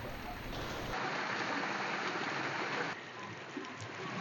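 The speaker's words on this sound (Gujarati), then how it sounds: "સમગ્ર નર્મદા જિલ્લામાં અત્યારે વરસાદ વરસી રહ્યો છે" Rain falling across a district after days of steady rainfall, a continuous soft hiss of drops that thins out partway through, with no voices.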